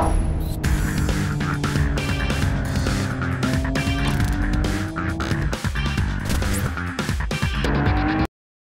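Racing car in Grid 2 drifting through a drift race, engine roaring continuously with rising and falling whine and tire squeal layered over it, loud and close throughout before cutting off abruptly.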